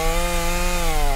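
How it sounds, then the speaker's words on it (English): A chainsaw in the video game Escape The Backrooms drones loudly and steadily at close range, its engine holding a constant buzzing whine throughout. "We're getting killed by a guy with a chainsaw when we had a chainsaw."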